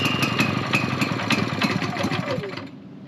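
A portable generator weighing about 55 pounds, pull-started at a campsite in extreme heat, its small engine running steadily with a pulsing mid-pitched drone close by that cuts out near the end.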